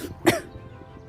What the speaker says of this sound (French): Moi aussi je tousse un petit peu